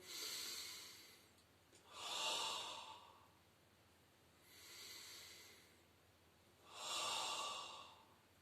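Slow, audible breaths in and out during a Pilates exercise, four airy hissing breaths spaced a few seconds apart, close and alone without talk.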